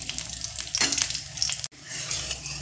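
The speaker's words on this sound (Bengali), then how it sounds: "ফোড়নটা একটু ভাজা হতে দেব।" Panch phoron spices crackle and sizzle in hot oil up close, a continuous frying hiss with a brief stir and a short break partway through, no voices.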